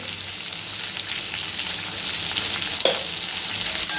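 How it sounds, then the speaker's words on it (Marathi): Sliced okra sautéed in hot oil with mustard seeds, asafoetida, turmeric and salt gives a loud, continuous frying hiss and crackle, with a brief clatter of stirring near the end. "भेंडी छान परतून घ्यायची आहे तेलावरती छान परतून घ्यायची आहे"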